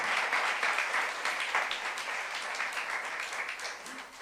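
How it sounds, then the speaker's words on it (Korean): A church congregation at a youth service claps together in steady, dense applause that holds at an even level for about four seconds, with no clear voices over it. "박수 한번 주세요."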